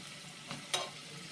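Badam puri, a sweet made for Diwali and Bhai Phonta, fries in hot oil. A faint, steady sizzle runs throughout, with two quick scraping strokes in the middle. No talk.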